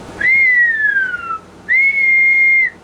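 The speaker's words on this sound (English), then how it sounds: "that could be the way I was whistling into the microphone" Two long, clear whistled notes, each gliding slightly downward, loud and close, whistled straight into a CB radio microphone, with a short pause between them.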